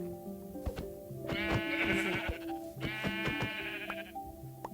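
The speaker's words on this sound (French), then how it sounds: "Je vois un mouton que je décide de foncer dessus pour l'éliminer." A sheep in the Minecraft video game gives repeated bleats, two or three wavering, nasal cries heard clearly and close, alone without any talking.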